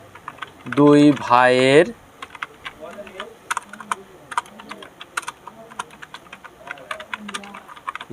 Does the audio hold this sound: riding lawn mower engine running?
no